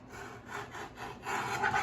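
Scissors or a blade trimming a printed paper soap label, a soft continuous rasping and rubbing that comes in several short strokes and grows a little louder toward the end, close by with no talk.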